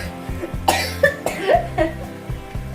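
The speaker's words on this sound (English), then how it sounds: "Forgive the coughing." Several harsh coughs in a row from a person, close and fairly loud, with a faint voice in the background.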